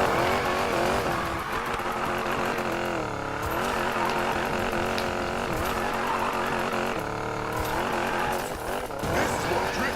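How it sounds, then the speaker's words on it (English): A car drifts in Need for Speed: Payback, its engine screaming steadily at high revs with wavering pitch sweeps as it slides, loud and continuous throughout, with the player's voice briefly audible over it. "This is what drifting is about."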